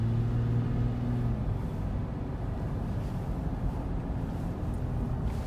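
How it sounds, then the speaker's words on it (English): A 2019 Toyota 4Runner TRD Pro accelerating on the road, a steady low engine rumble with a brief humming tone early on, heard from inside the cabin at moderate level. "You can hear it accelerating."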